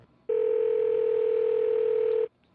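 One steady electronic telephone ring tone sounds while someone calls, loud and unbroken for about two seconds, then cuts off into near quiet.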